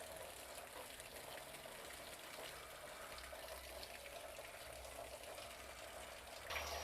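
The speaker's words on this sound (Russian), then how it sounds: "Пусть потихонечку сливается вода" Rinse water drains slowly and steadily off soaked grain being prepared for malting, a faint, even trickling wash with no voices, rising slightly at the very end.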